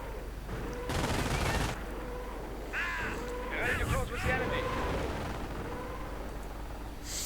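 Bursts of MG-42 machine gun fire in a WWII strategy game, sharp rattling volleys over a steady battlefield din with other distant gunfire and effects.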